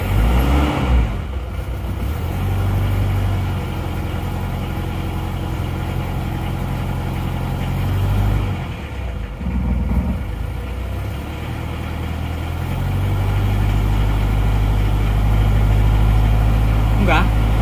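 A single-cylinder horizontal diesel engine with heavy oil consumption and a tapping knock cranks and fires, settling into a steady, loud low thump, dropping briefly mid-clip before running strongly again, with people talking nearby.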